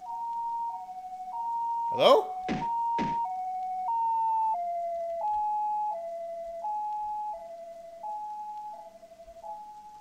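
A two-tone ambulance siren in the video game Paranormal Syndrome alternates high and low steadily throughout, while a voice briefly speaks over it near the start.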